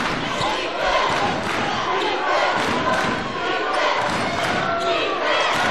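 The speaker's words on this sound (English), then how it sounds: "wants the crowd to get loud" Basketball crowd at a college men's game between Texas A&M-Kingsville and A&M-Commerce, a steady loud roar of voices and cheering filling the gym throughout, with scattered thumps of the ball and court noise.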